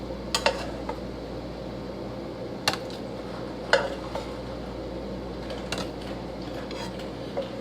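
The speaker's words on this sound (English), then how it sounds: "I'm going to scoop in the onions so they don't fall over the place." Chopped onions scooped into a pot for tomato soup: a series of sharp metallic clinks and scrapes of a utensil against the pot, spaced irregularly over a quiet kitchen background.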